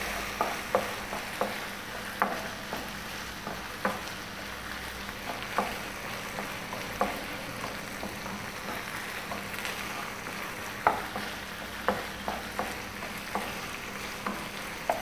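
Gobi manchurian sizzles in a pan with green chilli sauce as a utensil stirs it, sharp scraping clicks recurring roughly every second over a steady frying hiss.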